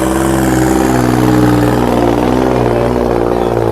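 A New Holland tractor engine roars loud and close at a trolley pulling contest in a Punjab village, a steady heavy drone without pause.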